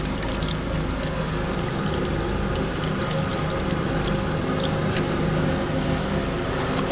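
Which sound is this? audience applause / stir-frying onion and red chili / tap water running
tap water running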